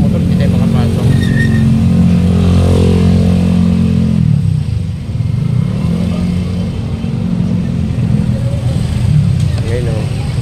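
Motorcycle engine idling and revving at a fish port at night, a loud rough drone that dips and returns, mixed with people talking close by.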